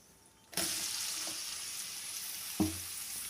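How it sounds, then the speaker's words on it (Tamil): Fried onions tipped into a simmering egg masala gravy set off a sudden loud sizzle that settles into an even hiss, with a soft clunk of the utensil partway through. "இப்போது இதுலேயே நாம் வறுத்து வச்சுருக்கிற வெங்காயத்தை சேர்த்துக்கலாம்"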